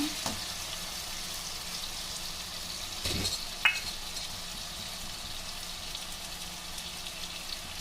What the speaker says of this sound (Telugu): ఉల్లిగడ్డ ఈ విధంగా ఉడికినాక